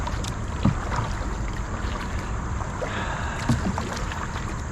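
Kayak paddling on the Delaware Water Gap river against a strong current, with soft water swishes and a couple of light paddle splashes over steady flowing water and faint wind.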